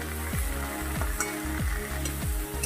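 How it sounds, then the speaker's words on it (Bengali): Cut okra sautéing in an oiled pan for a Bengali fish-roe curry, giving a steady close sizzle with repeated scraping stirs about every second. "এবার ভেন্ডিটা দিয়েও একটু কষিয়ে নেব"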